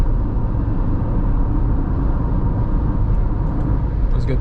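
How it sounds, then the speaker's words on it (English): Steady, dense road and wind rumble inside a 2024 Dacia Jogger Hybrid driving at about 100 km/h at night, loud and unbroken, with no talking. "I'm just gonna drop to 100, so you're gonna hear the wind noise"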